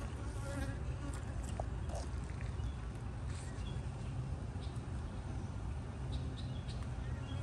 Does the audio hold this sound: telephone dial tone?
no